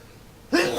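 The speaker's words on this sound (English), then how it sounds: "here comes a sneeze" A single sudden sneeze bursts out loud and close after near silence, from someone narrating a video game play session.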